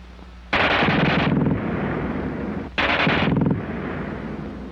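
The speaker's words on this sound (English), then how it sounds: "And here's their Schmeiser." German WWII Schmeisser submachine gun firing two loud, rapid automatic bursts, each lasting under a second, with a roaring reverberant tail after each.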